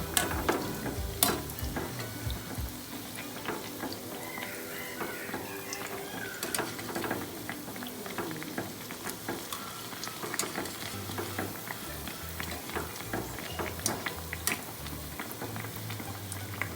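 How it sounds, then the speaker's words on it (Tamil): Bread-coated chicken pieces fry gently on a low flame, a soft continuous sizzle with scattered light pops and occasional clicks of a utensil against the pan. "லைட்டாக சிம்லேயே வச்சு ஃப்ரை பண்ணுங்கள்"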